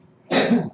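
A single sharp, close sneeze bursts out after a brief quiet moment, loud and breathy.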